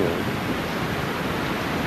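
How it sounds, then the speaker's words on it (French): Strong wind from an approaching storm roars steadily against the microphone, a loud continuous rushing blast with no pauses. "Puis ce vent, là, d'un coup qui s'est levé, l'orage qui nous suit."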